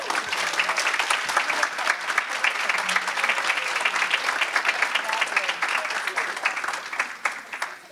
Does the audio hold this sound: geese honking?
no